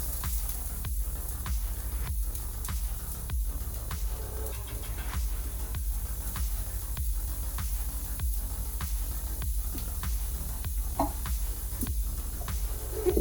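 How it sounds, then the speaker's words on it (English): Onions sizzling in olive oil in a skillet, a steady close crackling hiss with faint pops that runs unbroken from start to finish, with no voices. "I just have a little bit of olive oil in the skillet. Our onions are gonna be the first thing that go in."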